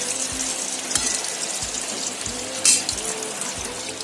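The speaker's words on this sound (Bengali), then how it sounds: "দেখো এদিকে বেগুন ভাজা হচ্ছে" Slices of aubergine fry in a pan, giving a steady close sizzling hiss with soft periodic thumps and a brief sharper crackle near the end.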